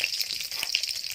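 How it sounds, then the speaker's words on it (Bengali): Four dried red chillies frying in the oil left from frying hilsa fish, a close, continuous hiss and sizzle with small crackling pops throughout, no voices. "ওই তেলেই আমি এবার শুকনো লঙ্কাটা ভেজে নেব"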